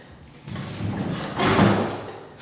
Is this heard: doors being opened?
yes